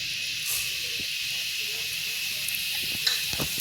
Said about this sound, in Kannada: ಇನ್ನು ಹಾಕ್ಕೊಂಡು ಫ್ರೈ ಮಾಡ್ತೇನೆ.